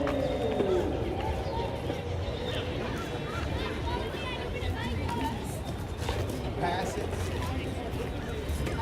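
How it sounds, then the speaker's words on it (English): Scattered bird calls at Venice Beach in Los Angeles, faint chirps rising over a busy backdrop of crowd chatter and nearby voices. "there is a lot of nice bird sounds amidst all the other sounds."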